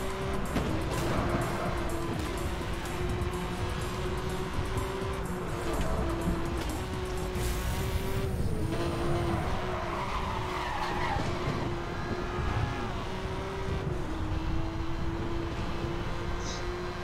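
Porsche race cars skid and squeal through corners in Need for Speed Hot Pursuit, a continuous loud engine drone with sliding tire screeches and a crash-like burst partway through, with no talk.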